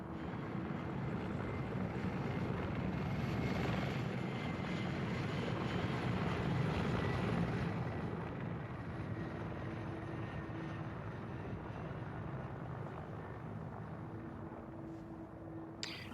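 A Mi-24 helicopter in Arma 3 thunders with a steady, loud rotor and turbine drone that swells mid-way and then eases slightly, heard alone without talk.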